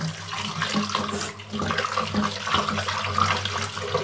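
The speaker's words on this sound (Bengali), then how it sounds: "বাটা মাছটা আমি ভালোভাবে ধুয়ে নিব" Bata fish gets a quick wash under running tap water, a steady splashing stream close by with uneven gurgles as the fish is turned in the flow.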